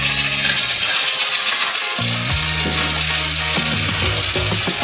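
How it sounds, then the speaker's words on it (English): A loud motorized construction mixer whirs and grinds steadily, stirring milk and sugar, its pitch shifting as it churns, a continuous mechanical drone with no voices. "And mix it all with a construction mixer."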